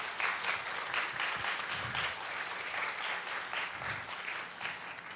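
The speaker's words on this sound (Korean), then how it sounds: "이영표 선수께 다시 한번 감사의 박수 부탁드립니다" A lecture audience applauds former footballer and sports commentator Lee Young-pyo, an even, sustained round of clapping from a seated crowd in a hall, moderately loud and continuous throughout.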